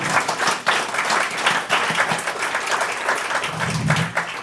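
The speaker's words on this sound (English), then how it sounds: "I would like to give a really big applause, if I could right now, to the band" Audience applause for a band at a homelessness speakers' bureau gathering in a community venue, a steady clapping crowd at moderate loudness, with dense mixed claps throughout and no voices over it.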